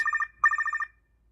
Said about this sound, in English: We'll start off with a phone call from Andreas,